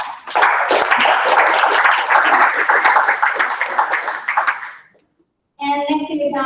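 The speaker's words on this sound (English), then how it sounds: "Give him a applause." Loud, dense audience applause fills a business tech event hall for several seconds, then cuts off into a brief silence before a voice or tone begins.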